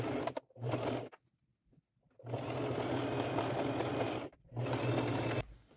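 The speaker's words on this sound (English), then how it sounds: "Now I'll just run a zigzag stitch all the way down" An electric sewing machine stitches a zigzag seam along a dress side in three steady, buzzing runs, each stopping sharply, with short quiet pauses between and no voices.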